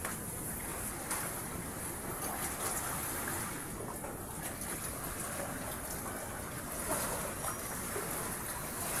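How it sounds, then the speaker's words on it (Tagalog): Big sea waves and strong wind out at sea on a small fishing boat, a steady broadband roar of wind and water that runs unbroken and fairly loud throughout, with no talking. "Malaking mga alon, malakas ang hangin."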